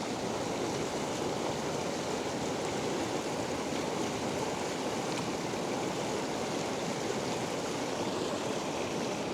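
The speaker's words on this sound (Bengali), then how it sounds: "ঠান্ডা পানি, এত সুন্দর শব্দ" Cold water of the Isuna river rushing over rocks near the mountains, a steady, loud broadband roar that holds constant throughout with no talking.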